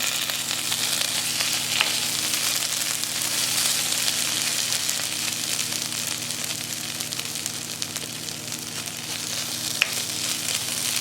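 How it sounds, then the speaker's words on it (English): Spices toast in a hot pan with a loud, continuous, even sizzle and crackle, broken only by a couple of faint clicks. "toasting the spices beforehand really adds to the flavour"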